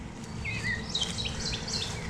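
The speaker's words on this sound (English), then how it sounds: "Yeah, you can hear the birds." Birds chirp outdoors near a garden, several clear high tweets and short trills repeating over a quiet background hum, fairly close and unaccompanied by voices.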